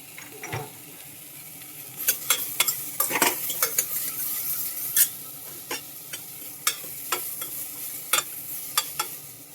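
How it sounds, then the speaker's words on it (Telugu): Onion and tomato for instant sambar sizzle in a pan under repeated close spoon scrapes and clinks against the metal, a busy irregular stirring rhythm, no talk. "ఇట్లా కలిపేసుకుందాం కదా మగ్గుతూ ఉంటుంది"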